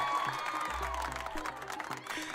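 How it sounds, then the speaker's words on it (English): A short burst of crowd applause and cheering sound effect, fairly faint, mixed with a low hum and clattering background noise. "Self-congratulatory applause there."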